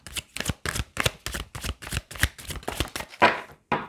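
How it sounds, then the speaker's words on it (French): Tarot cards being shuffled in a steady run of about a dozen crisp riffling bursts, close and fairly loud, with no voices. "je bats les cartes et on continue"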